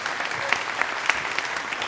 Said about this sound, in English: Everyone, another round of applause for Mr.